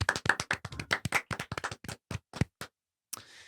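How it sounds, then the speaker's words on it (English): A small group on a podcast gives a round of applause: sparse, uneven close claps that thin out and stop, followed by a brief burst of hiss. "Round of applause to her."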